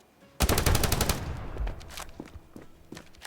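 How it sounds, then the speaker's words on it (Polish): Gunfire in the mobile shooter Standoff 2, opening with a fast, loud burst of rapid automatic shots, followed by scattered single cracks and footsteps-like clicks fading in intensity. "bo to już padły pierwsze strzały ostrzegawcze"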